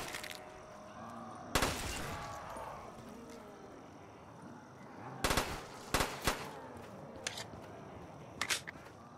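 Gunfire in Black Ops 3 Zombies, with sharp rapid bursts and single shots sounding close and loud in clusters, separated by quieter game ambience.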